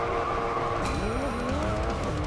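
A race car engine in a mobile racing video game whines at high revs with shifting pitch and tire squeal, loud and continuous without any talking.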